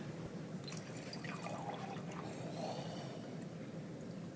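Water trickles and pours softly into more water, a faint, continuous splashing with small drips over a low background hum.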